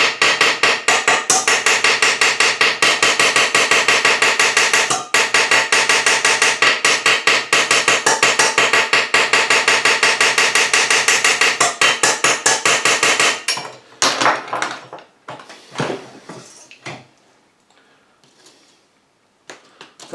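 A metal punch is struck rapidly on a toy car axle, a fast, loud, ringing series of hammer blows for about thirteen seconds, then slowing into a few scattered, fading taps.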